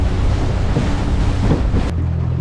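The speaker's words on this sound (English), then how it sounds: "That wind is fully picked up right now." Strong wind buffets the microphone over a loud, steady roar of rough ocean from a boat heading toward a reef, with the rush continuing throughout and dropping away abruptly near the end.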